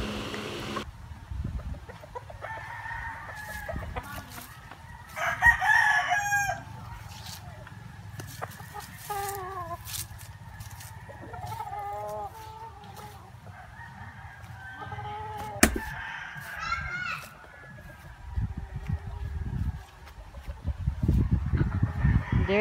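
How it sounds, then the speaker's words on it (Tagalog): Roosters crow and chickens cluck repeatedly at close range at a mountain gamecock farm, with occasional honking fowl and bursts of rustling noise. "There they are. The chickens."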